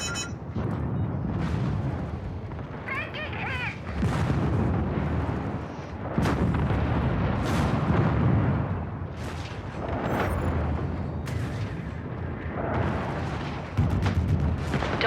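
Incoming missile explosions in the video game MechWarrior 5 Mercenaries, a dense run of heavy booms and blasts with rumbling aftershocks and sharp bursts, loud and continuous over about fifteen seconds without talk.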